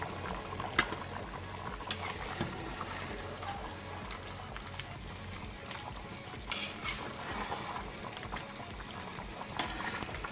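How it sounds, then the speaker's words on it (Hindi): Lid lifted off a pot of chicken pulao on a village cookstove and a spoon stirring the cooking rice, with faint scraping and clinks over a steady low simmer, fairly quiet and without talk. "अभी हम चावल का ढक्कन उतार के एक बार देख लेते हैं और चम्मच भी हिला देते हैं चावलों में"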